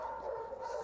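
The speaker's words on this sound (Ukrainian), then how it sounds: "Коли приїхала Ольга, собака від радості ледь не збивала її з ніг" A shepherd dog greets its owner in Lviv with a brief, excited whining bark, close and moderately loud.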